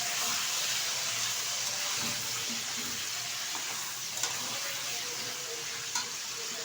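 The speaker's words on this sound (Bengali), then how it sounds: "এখন এই তেলে দিয়ে দেবো আমি ম্যারিনেট করা চিকেন।" Marinated chicken fries in hot oil in a pot, giving a steady, even sizzling hiss at moderate volume with a couple of small clicks and no talking.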